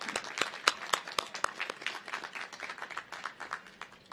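Applause from the audience at the Bowie State University Spring 2023 commencement ceremony, a dense, steady patter of many hands clapping, fairly faint and distant, with no voices.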